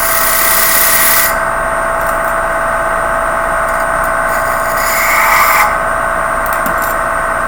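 A wood lathe spins a baby rattle lid while light cuts take off sawdust, giving a loud, steady motor hum close by, with hissing tool contact that comes and goes over it.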